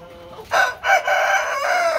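A rooster on a poultry farm crows loudly and close by, one drawn-out call broken into a short opening note followed by a longer sustained cry.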